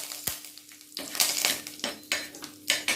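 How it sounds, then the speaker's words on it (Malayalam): Mustard seeds, cut red chillies and curry leaves dropped into hot sesame oil for mint pickle, giving a near crackling sizzle broken by sharp utensil clinks against the pan. "നല്ലെണ്ണ ചൂടായി കഴിയുമ്പോൾ 1/2 ടീസ്പൂൺ കടുക് ചേർക്കാം. 2 ചുവന്ന മുളക് മുറിച്ചിടാം. കുറച്ച് കറിവേപ്പില ചേർക്കാം."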